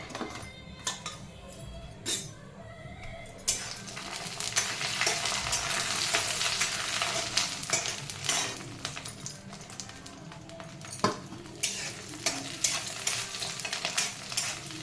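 Tempering spices for idli crackle and sizzle in a hot pan while a utensil stirs and clinks against the metal, with intermittent scraping throughout.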